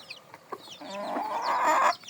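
A hen in a small backyard flock clucks in a few short, close calls that swell into a longer, louder drawn-out cackle.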